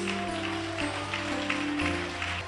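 A church congregation applauds during a sermon, a steady wash of clapping from many hands with sustained musical tones humming beneath, continuous and fairly close for the whole stretch.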